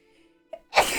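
A single sharp sneeze bursts out close and loud after a brief soft intake, broadband and explosive, tailing off quickly.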